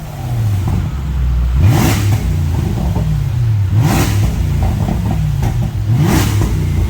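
A stock Range Rover engine revs repeatedly, with three or four rising throttle blips and roaring exhaust, loud and close, with no talking.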